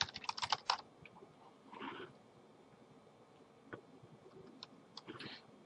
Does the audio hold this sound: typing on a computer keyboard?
yes